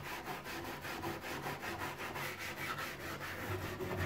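Brush scrubbing along the grain of an old wooden kneading trough (maie) during wax-removal cleaning, a steady close rhythmic back-and-forth rasp repeating about four times a second, with no talk.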